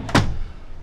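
A chestnut wooden drawer in an Allegro 35QBA motorhome shuts with a single close, solid thunk followed by a short fading rumble.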